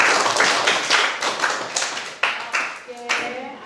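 A class of students claps their hands together in a classroom, a dense run of sharp slaps that rises and falls in bursts over nearly four seconds, fairly close and loud, with brief voices mixed in near the end.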